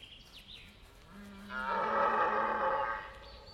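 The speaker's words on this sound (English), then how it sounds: "It's the sound of autumn and red deer stags starting their rut." A red deer stag roars during the autumn rut in a Central European forest, one deep, drawn-out bellow that swells in the middle and then fades, preceded by a low grunting lead-in, close and alone.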